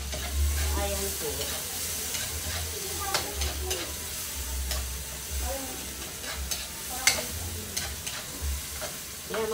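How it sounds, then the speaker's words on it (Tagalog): Tomatoes fry and sizzle in a pan while being stirred, with a continuous hiss broken by repeated scraping and clinking spoon strokes, close and loud; a low thumping runs underneath. "Lutuin muna natin mabuti yung kamatis guys"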